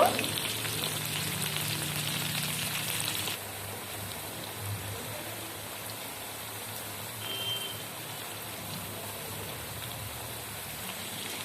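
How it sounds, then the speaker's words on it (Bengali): Potatoes fry in oil with salt and turmeric, a steady close sizzle and crackle that is louder at first and then settles into a quieter, even hiss. "আমি অল্প পরিমাণে একটু লবণ দিলাম আর অল্প পরিমাণে আমি হলুদ গুঁড়ো দিলাম ভালো করে আমি ভেজে নেব"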